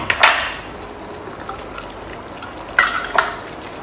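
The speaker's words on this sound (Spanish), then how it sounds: "Y añadimos lo que es la cebolla." Onion going into a hot pan for Ghanaian-style chicken, with a few sharp bursts of sizzle and scraping as it is stirred, over a low steady frying hiss.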